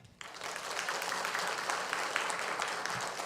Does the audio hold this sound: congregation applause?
yes